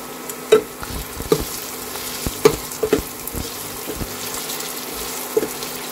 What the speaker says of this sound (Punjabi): ਚੰਗੀ ਤਰ੍ਹਾਂ ਆਪਾਂ ਬਰਾਊਨ ਹੋਣ ਤੱਕ ਭੁੰਨਾਂਗੇ।